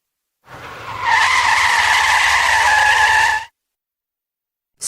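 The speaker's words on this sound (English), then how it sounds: "Screech." Car tires screech in one loud, sustained skid lasting a few seconds, rising in and cutting off abruptly, with no other sound around it.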